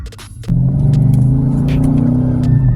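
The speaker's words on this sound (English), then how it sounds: "That V8 rumble is pretty cool." A 2011 Dodge Challenger R/T with a Hemi V8 fires up and settles into a loud, deep, steady idle rumble heard close by and alone.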